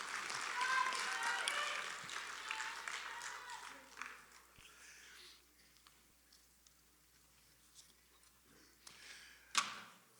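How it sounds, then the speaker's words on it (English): Audience applause at a college National Signing Day ceremony, with a broad burst of clapping at the start that thins out over several seconds, followed by scattered claps and a late sharp clap near the end. "Let's get a big special round of applause for this group"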